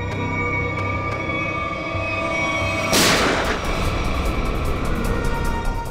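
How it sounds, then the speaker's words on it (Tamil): A gunshot rings out loud and close in a tense scene from the CID Tamil TV drama, a sharp burst over a steady background hum, then fading into continuing noise. "எங்க இருந்து புல்லட் சத்தம் கேக்குது?"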